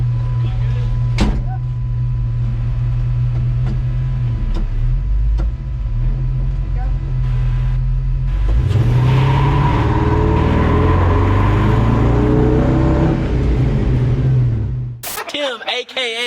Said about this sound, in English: he just showed me how to do a one wheel peel burnout